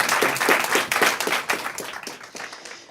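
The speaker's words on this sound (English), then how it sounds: "Another round of applause." Audience applause at a prize evening: a burst of clapping, loud and dense at first, then thinning into scattered individual claps as it dies away.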